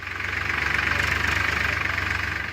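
A tractor engine runs at a school in Nepal with a steady, close, low chugging idle and an even pulsing rhythm. No other sounds are heard.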